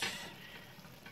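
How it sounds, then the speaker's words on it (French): Egusi and green beans stirred together in a cooking pot, a short close scraping and sizzling swirl that starts loudest and settles into a steady soft rustle. "Now, mixing everything all together."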